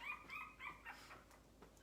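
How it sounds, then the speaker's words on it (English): A distressed puppy whimpers and yips in short high whines, several small cries in quick succession, fairly close and alone. "I'm getting distracted by a distressed puppy."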